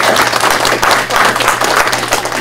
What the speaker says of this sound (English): So a round of applause for those who could not cross any pond